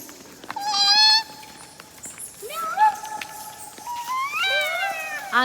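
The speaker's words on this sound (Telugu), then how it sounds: "చిన్న పిల్లి వచ్చింది చిన్న పిల్లి" A kitten's few high, thin mews rise and fall close by inside Borra Caves, Araku, India, with brief pauses between them and light background noise.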